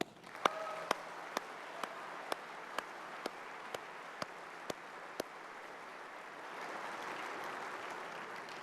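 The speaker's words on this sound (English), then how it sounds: "So join me in offering another round of applause to all the controllers and Region X members" At a safety awards ceremony, applause for air traffic controllers is heard as faint, evenly spaced sharp claps roughly twice a second, followed by a soft, diffuse swell of distant clapping near the end.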